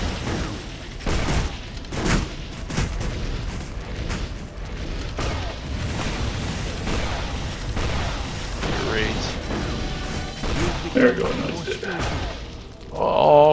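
Gunfire and blasts in the action game Torchlight 2, a steady mid-level stream of shots and booming impacts under frequent player chatter.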